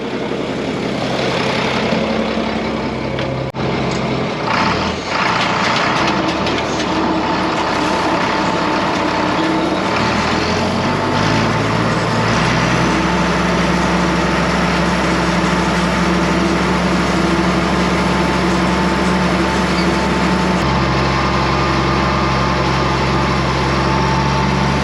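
A 1977 farm tractor idles steadily for the whole stretch, with a loud, close, continuous engine rumble whose low throb shifts slightly partway through.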